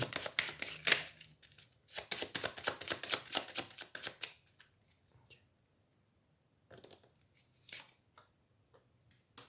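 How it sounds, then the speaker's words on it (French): Tarot and oracle cards being shuffled by hand in quick, riffling bursts, close and crisp, followed by quieter pauses and a few brief card flicks. "J'ai envie de tirer juste une carte du tarot, et de mon oracle peut-être"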